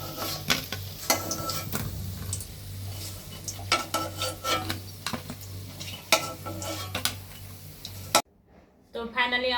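Cauliflower kebabs frying in a pan, with a steady sizzle broken by repeated sharp clinks and scrapes of a utensil against the pan, fairly close, before an abrupt cut near the end.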